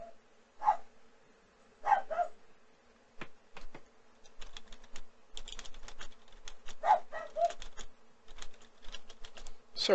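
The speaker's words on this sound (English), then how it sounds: "Sorry about the dog barking in the background if you can hear it." A friend's dog barks indoors, several scattered barks sounding distant and faint. Between them come clicking keyboard taps and a soft background hum.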